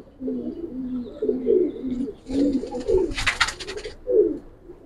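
Giribaz pigeons in a loft coo in soft, repeated throaty rolls close by, with a brief burst of wing flutter partway through and no speech.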